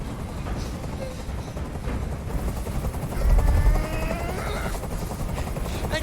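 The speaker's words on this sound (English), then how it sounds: "I can't stand that noise anymore. Tell that helicopter to get out of here." Helicopter hovering in the video game Detroit: Become Human, rotor thumps churning steadily at close range, swelling louder in the middle, with scattered crackles and bursts layered over the drone.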